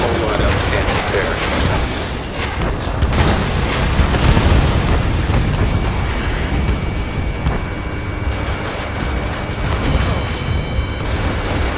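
Heavy artillery and laser fire from the aerial combat game Ace Combat 8, a dense, continuous barrage of booms and bursts that stays loud throughout, with voices speaking over the battle.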